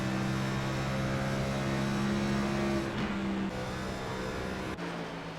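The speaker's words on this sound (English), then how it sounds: "You can hear him breathing in and out of the throttle right here" Race car engine in a Cup Series race on the Indy oval, droning steadily on throttle, then briefly lifting and breathing back on through the corners, loud and continuous with no talk.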